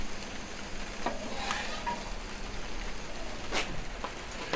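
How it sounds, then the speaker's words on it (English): Rain falls steadily on a cold day around a Weber kettle grill, a dense, soft hiss with a few sharper drops and crackles, close by and with no one speaking. "It's raining"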